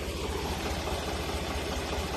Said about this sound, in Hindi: ट्रैक्टर को अब निकालना है इस तरफ से